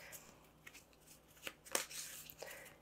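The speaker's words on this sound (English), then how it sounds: "Now I haven't set up my items deck just yet, so I'll shuffle, shuffle, shuffle." Item cards for a board game being shuffled by hand, a soft papery riffle and rustle in short bursts across a few seconds, fairly quiet and close with no talking.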